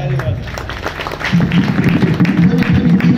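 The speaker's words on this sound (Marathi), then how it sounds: "सगळ्या दानशुरांसाठी अगोदर सगळ्यांनी टाळ्या" Audience at a kirtan gathering clapping for donors, a dense burst of applause starting after a short spoken lead-in and continuing loud and steady to the end.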